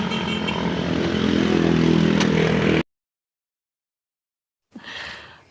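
A motorcycle engine with a knocking, rattling fault runs loud and steady with a rough, clattering idle, then cuts off abruptly into silence before a brief, fainter burst of engine noise returns near the end.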